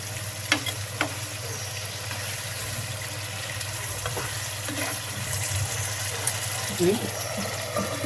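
Fried rui fish and yogurt going into a pan with hot broth, a low steady simmering sizzle with a few clinks of utensil against the pan.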